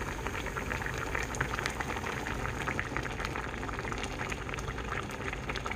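Kimchi stew made with aged kimchi bubbles steadily in a pot over raised heat, a dense continuous simmering burble with small pops throughout, close and alone with no voices.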